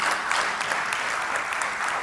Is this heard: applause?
yes